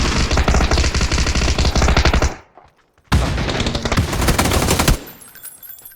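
Sustained rapid automatic Tommy gun fire in a video game rattles loudly, breaks off briefly, then resumes in another long burst before stopping.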